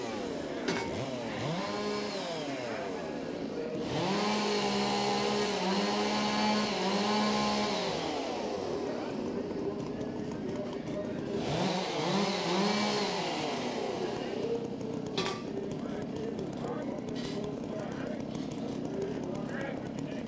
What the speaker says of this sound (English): We can hear they've warmed up those Stihl MS660s, ready to go